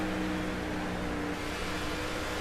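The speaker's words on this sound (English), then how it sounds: "And as you can hear, we're coming down pit road this time by." Race car engine from NASCAR '15 Victory Edition at the Brickyard 400, droning steadily down pit road at moderate volume, a sustained mid-pitched motor hum with no talk.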